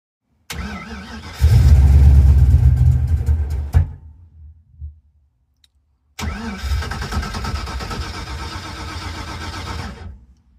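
A car engine fitted with an Edelbrock 1405 carburetor, its manual choke partly closed, cranks and fires into a loud rough rev, dies away, then restarts and settles into a steady idle, close by with no talk.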